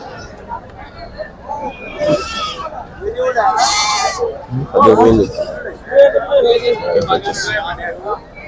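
Large male goats bleat repeatedly at Pebbair livestock market in Wanaparthy district, Telangana, loud cries rising over a busy crowd hubbub with people talking nearby.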